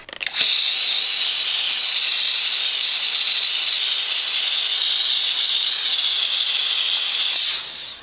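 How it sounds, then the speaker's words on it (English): A steamer blasts steam onto a wig, a loud, continuous bright hiss that starts abruptly, holds steady for several seconds and then tapers off, with no talking. "I wish I could hold my hand there and steam"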